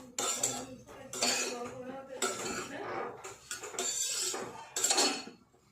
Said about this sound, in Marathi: फक्त मिक्स करून घ्या व्यवस्थित, न तेल घालता.